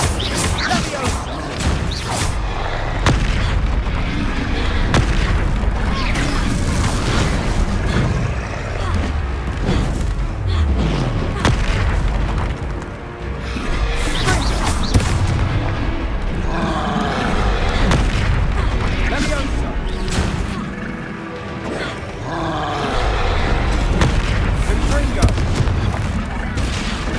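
Spell blasts and booming explosions from a magical duel in Hogwarts Legacy, loud and repeated over a dense game soundtrack, with voices calling out during the fight.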